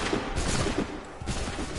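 A musket volley fires in the game Assassin's Creed 3: a loud, dense crackle of many shots merging into one sustained roar, close, with no speech over it.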